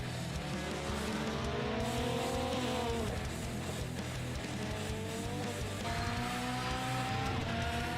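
Rally cars race around the historic loop at Oulton Park in iRacing, engines droning continuously with rising and falling revs as gears shift, tires occasionally squealing through corners.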